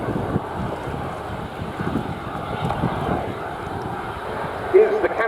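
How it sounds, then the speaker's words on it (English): A Canadair CL-13B Sabre Mark 6 jet, powered by an Avro Canada Orenda 14 engine, roars steadily at an air display, with a broad wind-buffeted rumble throughout and a brief louder swell near the end. "Is the Canada CL-13B Sabre Mark 6."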